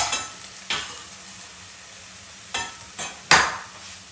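Chillies frying with potatoes in a pan for a lentil dhal, a continuous sizzle broken by several sharp scrapes and clanks of stirring.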